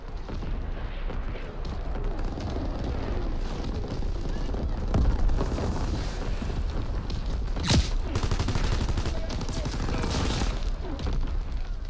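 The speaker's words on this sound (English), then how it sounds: "Division artillery. Target position confirmed." Artillery strike and massed gunfire in Call of Duty WWII multiplayer: continuous rumbling barrage with sharp booming impacts near the middle and end, a radio voice speaking over the din.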